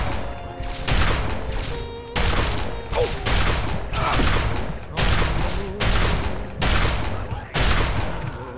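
Plasma gun fire in Fallout 3, a rapid series of heavy energy blasts in regular bursts about once a second, loud and close, with mechanical clatter between shots.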